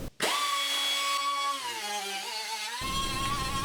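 A power tool cuts into a car body bracket on a 1973 Triumph TR6 under restoration, starting abruptly after a brief silence and whining steadily and loudly near the mic, its pitch sagging under load before a broader grinding roar.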